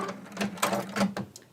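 Sewing machine back stitching while attaching binding to a quilt, a short run of quick mechanical stitching bursts with brief pauses, close and moderately loud, no talk.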